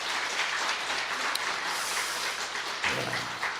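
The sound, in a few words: audience applause in church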